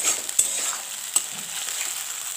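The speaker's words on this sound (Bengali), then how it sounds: "দিয়ে দেবো পেস্টের মশলাটা, মশলাটা ভালো করে ফ্রাই করে নিতে হবে তেল ছাড়া পর্যন্ত" Masala paste frying in hot oil with bay leaves and cinnamon in a pan for a cauliflower curry; a steady, close hiss of sizzling with a few sharp stirring clicks.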